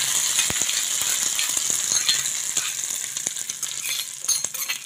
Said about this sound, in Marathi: तर आपण आता चटणीमध्ये ह्याला ओतून घेऊ।